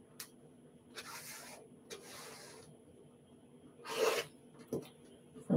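Quilt fabric blocks being trimmed with a Trim-It ruler, heard as several short, close rubbing and scraping strokes of a cutter across fabric, separated by quiet pauses, with no talking.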